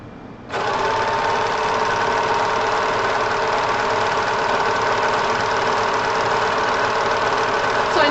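An overlock serger stitching fabric for a Qing Dynasty–inspired qipao wedding dress starts up abruptly and runs at a steady, fast, loud mechanical whir with rapid needle chatter for about seven seconds.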